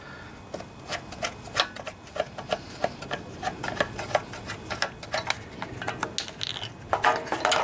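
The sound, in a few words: removing the air filter from a Tecumseh Enduro engine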